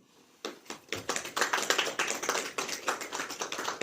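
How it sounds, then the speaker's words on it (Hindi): A congregation at a Hindi-language Christian sermon claps in a brisk, uneven patter that starts abruptly after a brief pause and continues steadily, fairly close and moderately loud, with no voices over it. "ताली हो जाइए"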